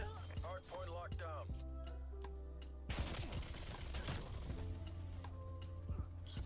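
Gunfire in the Call of Duty Cold War video game crackles in dense, rapid bursts under a voice talking in the game chat, with steady background drone throughout.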